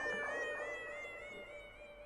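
A cat in an anime episode lets out a drawn-out, wavering meow, soft and somewhat distant, heard alone without talk.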